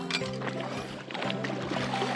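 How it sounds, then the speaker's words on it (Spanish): Wading and splashing across a warm river in a cave route near Xajha, with steady water sloshing and flowing close by throughout, fairly loud and continuous. "Bueno, amigos, hay que atravesar el río aquí."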